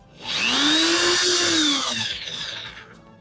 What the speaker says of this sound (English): when we put the drill on the fabric, we need to make sure that it's perpendicular to the surface